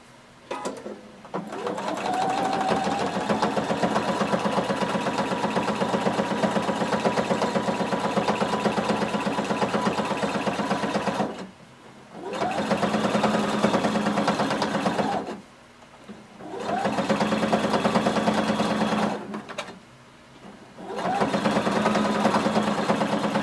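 Sewing machine sewing a casing along a jumpsuit seam, a close, steady whirring run broken by three brief pauses before each restart.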